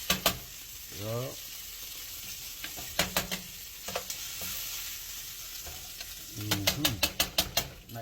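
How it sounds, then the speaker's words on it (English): Chicken wings dropped into hot frying oil sizzle steadily with salsa nearby, the crackle broken by clattering stirs and utensil knocks, while someone speaks over the cooking. "Dropping in these wings and this oil."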